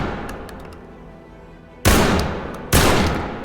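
Two sharp, loud gunshots ring out in the tactical shooter game Ready or Not, spaced about a second apart, each with a decaying echo tail after quieter background sounds.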